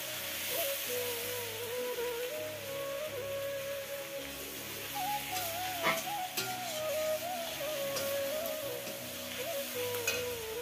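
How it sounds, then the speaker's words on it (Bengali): Meat is sautéed in a pan with a soft, continuous sizzle, faint and steady, while a wavering tonal hum runs in the background and no one speaks. "তো মাংসটা কষে নিচ্ছি।"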